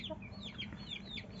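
Several chickens, including a white hen, cluck softly in a small backyard flock while they drink water on a hot summer day, with short chirpy calls scattered over a low steady hum.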